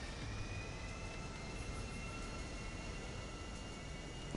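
A helicopter in a PS4 video game gives off a steady, droning engine hum with a faint whine, unchanging and moderately quiet throughout, with no speech.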